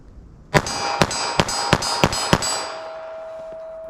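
Six sharp gunshots from a .32 H&R Magnum fired through a Ruger LCR snub-nose revolver, ringing out at a steady pace about every third of a second, loud and close, followed by a fading ring.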